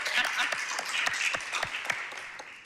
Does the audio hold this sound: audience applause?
yes